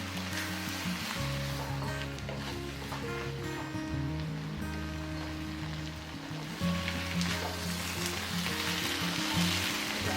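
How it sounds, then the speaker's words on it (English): Kway teow and Hokkien noodles stir-fried in a hot wok give a steady, loud sizzle and hiss. Dull scraping from stirring runs through it, and a low hum sits underneath, with no talk. "Stir-fry noodles until smoking and continue to stir-fry until fragrant."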